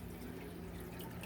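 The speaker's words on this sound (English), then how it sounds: "See if you can hear it dripping here." Water drips and trickles through an algae turf scrubber on a home aquarium, a steady close splashing wash with no talking over it.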